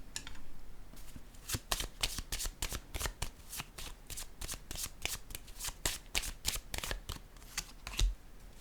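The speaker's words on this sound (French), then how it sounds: "Je vais déposer une autre carte ici." Playing cards handled and laid down during a magic card trick, heard as a fast, steady run of crisp flicking snaps close to the listener, like a rapid shuffle, with no voices over it.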